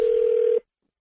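A steady telephone tone begins a prank phone call on a morning radio show. The loud, single-pitched hum holds for about half a second and then cuts off abruptly into silence.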